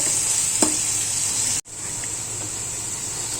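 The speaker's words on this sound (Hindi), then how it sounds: "ब्राउन होने तक पकाएंगे प्याज को।" Sliced onions sizzle in a cup of hot oil over medium heat, cooking until brown for a Malegaon-style biryani; a continuous close hiss with a brief stirring clink and one short dropout midway.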